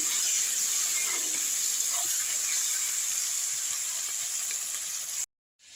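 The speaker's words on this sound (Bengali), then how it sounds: "এবার মাছগুলো একটু লাল করে ভেজে নেব আমি" Dried shutki fish fry in a pan with a constant soft sizzle and hiss, steady and close, with faint crackles and no talking, before cutting abruptly to silence.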